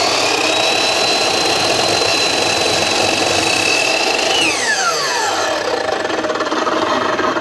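Miter saw cutting American chestnut picture frame pieces: a loud continuous whine that spins down steadily near the end, close and alone.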